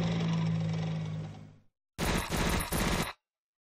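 Rapid automatic MG34 machine gun fire from the video game Battle Academy 2, in two bursts separated by a brief silence, dense rattling shots close and loud.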